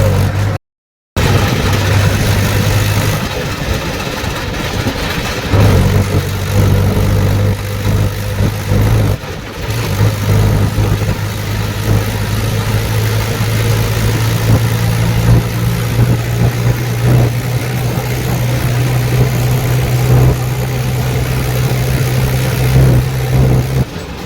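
Tractor hauling soil, its engine running loud and close in a steady low drone that rises and settles a few times, with a brief dropout near the start and no talk.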